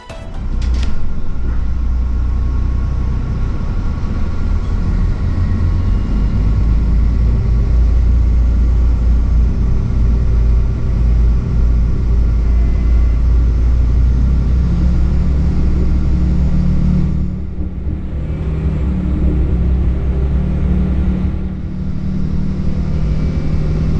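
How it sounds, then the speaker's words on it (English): A regional train pulls away from Hechingen station on the Eyach Valley Railway, a loud steady low engine rumble and rolling drone from onboard, easing briefly before building again. "now it's time to take a look at the departure of our train here at Hechingen and Eyach"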